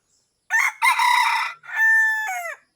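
A labuyo junglefowl rooster crows nearby, two loud harmonic calls in quick succession, the second a long drawn-out crow falling off at the end, with no other sound.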